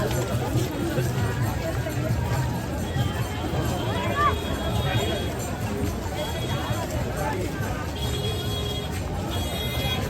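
A huge crowd of pilgrims at the Maha Kumbh at Sangam, Prayagraj, on Mauni Amavasya bathing day, heard as a steady, dense hubbub of many voices and movement with no breaks, filling the whole space.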